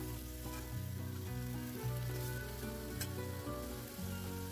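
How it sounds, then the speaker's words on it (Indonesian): Vegetables being stir-fried with seasoning paste in a pan, a loud continuous sizzle with scraping and stirring rhythm throughout, no talking. "Sekarang kita masukkan sayurnya. Ini kita aduk-aduk sampai semuanya tercampur rata sama bumbu."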